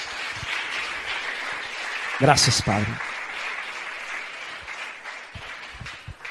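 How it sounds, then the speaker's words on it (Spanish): A church congregation keeps applauding, a broad steady patter of many hands throughout; partway through someone speaks briefly over the clapping, which continues at a similar level to the end. "Denle un aplauso fuerte al Señor."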